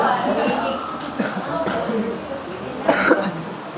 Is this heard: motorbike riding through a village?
no